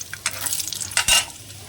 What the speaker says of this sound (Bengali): একটু বাদামটা ভেজে নেব